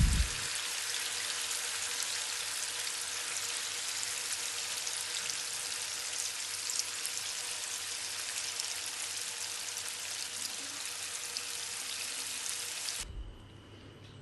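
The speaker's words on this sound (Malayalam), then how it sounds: "എന്നിട്ട് ഇതൊന്ന് ഫ്രൈ ചെയ്തെടുക്കാം." Soybean chunks frying in hot oil in a pan give a steady, dense sizzle and crackle that runs loud and unbroken for about thirteen seconds, then drops away suddenly near the end.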